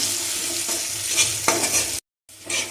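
Finely chopped green chillies fry in a hot pan with a close, steady sizzle and a few spatula scrapes, cut by a brief silent gap before the hiss returns.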